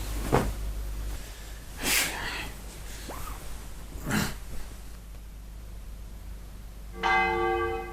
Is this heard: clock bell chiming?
yes